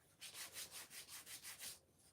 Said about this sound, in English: We're just smoothing out the paint. This is a real old sanding pad.